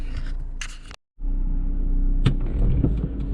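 A 2002 Ford Puma drives on Beachy Head Road, heard as a steady low engine and road rumble from inside the cabin. A sharp click or knock comes just before a brief dropout, and the interior drone then resumes.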